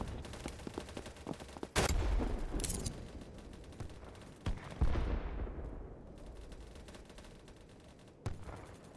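Gunfire in the video game BattleBit Remastered, several sharp loud shots and short bursts with tails that ring out, spread irregularly across the stretch with quieter gaps between them.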